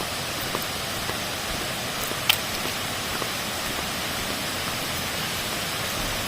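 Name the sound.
Than Sawan waterfall in Phayao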